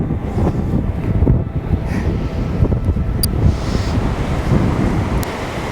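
Strong wind roars and buffets the microphone continuously, a heavy low rumble with gusty surges and no voices.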